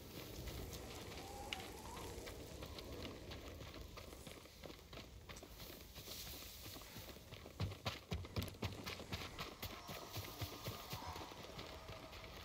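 Horse hooves clip-clop in a video game, steady rhythmic hoofbeats with a crackling fire-like ambience underneath, growing louder and closer in the second half.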